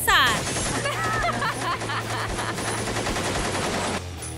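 A big gun fires in rapid bursts at a police academy, producing dense, crackling repeated shots with a loud initial blast and ringing tones, while people's voices mix in.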